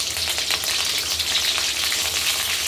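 Shallots and curry leaves frying in hot oil, making a dense, steady crackling sizzle up close with no pauses, heard alone without speech.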